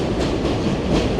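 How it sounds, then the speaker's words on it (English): An elevated New York City subway train passes close by, a dense steady rumble with rattling wheel clatter throughout and no voices. "Here goes another train."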